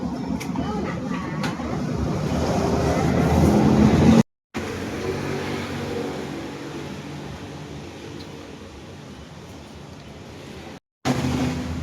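A Kawasaki motorcycle engine, knocking after its oil change was skipped, idles with a steady, rough mechanical clatter, close and continuous, briefly cutting out twice.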